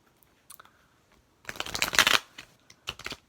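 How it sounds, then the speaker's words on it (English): A tarot card deck being shuffled close up, with a few light taps followed by a dense riffling burst and a couple of shorter shuffles, crisp and nearby with no talking. "gonna shuffle one more time."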